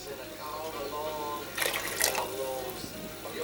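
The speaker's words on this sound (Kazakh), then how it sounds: "Міне даже көп кетті суы даже." Water is poured into a container of beetroot and cabbage until it overflows, a steady close splashing and trickling with a brief louder gush partway through.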